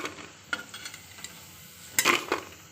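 Moong dal pakoras fry in oil on a medium flame, a soft sizzle punctuated by close scraping and stirring clinks of a utensil in the pan, with a louder clattering burst near the end.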